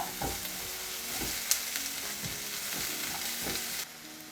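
Onions frying with ginger-garlic paste, turmeric and salt for dal makhani, giving a loud, close, steady sizzle broken by repeated scraping stirs of a spatula. The sizzle drops off suddenly near the end.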